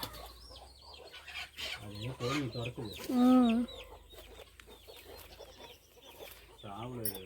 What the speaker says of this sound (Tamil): அலமோதிட்டே இருக்குது கோழிங்க